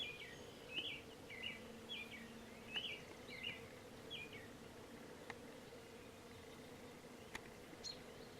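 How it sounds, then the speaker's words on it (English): Bees buzz faintly around a tree outdoors, a low steady drone with scattered bird chirps repeating above it. "I don't know if you can hear all those bees,"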